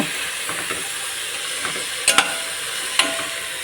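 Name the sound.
okra frying and cooking in a pan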